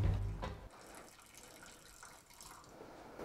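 Water running from a tap in an abandoned swimming hall: a soft, continuous trickle and splash, fairly faint and close, after a brief louder bump at the start, with no talking.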